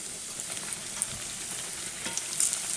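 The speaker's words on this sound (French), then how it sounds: "Donc je viens déposer mon beignet. Et on va faire cuire de chaque côté entre 2 et 3 minutes de chaque côté." Berlin doughnuts frying in hot oil, an even, close crackling sizzle with faint bubbling pops running steadily throughout.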